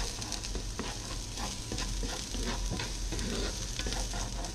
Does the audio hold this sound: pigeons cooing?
no